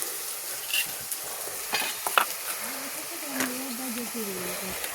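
Chopped tomatoes hit onions already fried red in a pan for a prawn curry, setting off a steady sizzle and hiss with stirring clinks, while someone speaks over the cooking.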